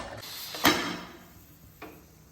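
Pressure cooker lid being put on and closed, a sharp metallic clack followed by a fainter second click, with light scraping in between.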